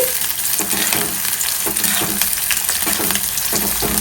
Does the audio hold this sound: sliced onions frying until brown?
yes